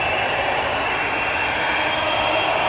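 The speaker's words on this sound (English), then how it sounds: "KLM 100 years special livery 787-10 Dreamliner" A KLM Boeing 787-10 Dreamliner in 100-years special livery roars on takeoff at Schiphol's Polderbaan, a loud, close, continuous broadband jet rumble that holds steady without any talking.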